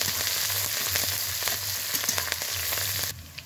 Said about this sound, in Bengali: ফোড়নটা একটু হালকা করে ভেজে নেব